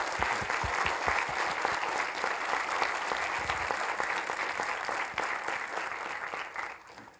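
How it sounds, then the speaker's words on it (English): An audience at the SensUs Innovation Days 2024 closing ceremony gives the event organizers a big round of applause. The dense clapping holds steady for several seconds, then thins and fades near the end. "I would like to ask you to give them a big applause."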